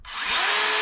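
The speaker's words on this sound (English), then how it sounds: "it's not really a true test of a chainsaw, but I'll just show you how quiet it is" A Makita 18V cordless chainsaw with a dull chain whirs up to speed in under a second, giving a bright, steady electric whine at close range.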